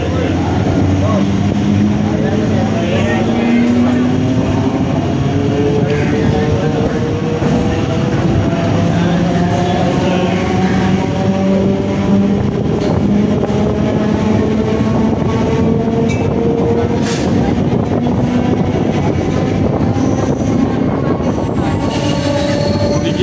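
A train pulls out of a railway platform on the Howrah to Ghoraghata route, with steady loud rumbling and rising wheel tones lasting throughout, wheel squeal and faint rhythmic clatter mixed in.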